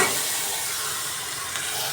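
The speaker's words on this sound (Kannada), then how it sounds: "ಸಾಸಿವೆ ಸಿಡಿತಾ ಇದೆ" Mustard seeds in hot oil in a small tempering pan, heated on a gas stove, give a dense, steady sizzling hiss for about two seconds, close and loud, with no talk.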